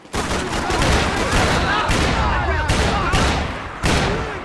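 Heavy gunfire in Max Payne 3 fills the moment, with dense overlapping shots and a few louder blasts standing out over continuous combat noise, while voices shout amid the firing.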